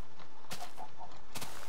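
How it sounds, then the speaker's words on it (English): Minecraft chickens cluck in a game, a few short, quiet clucks spread across under two seconds, with brief bursts of other game noise between them and no talking. "Freaking chickens."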